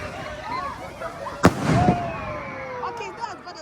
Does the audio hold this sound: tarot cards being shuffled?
no